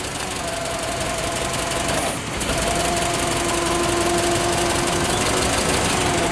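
A Toyota 42-6FGCU15 forklift engine, 3000 lb capacity, runs steadily and loudly nearby with a continuous knocking, chugging rumble and a slight dip in pitch partway through.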